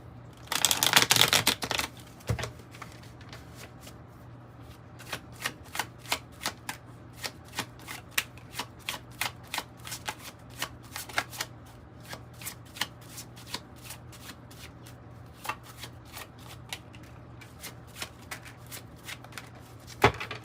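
A tarot and oracle card deck is shuffled close by, with a dense burst of riffling cards at the start followed by a long run of sharp, irregular card taps and flicks, alone with no voice.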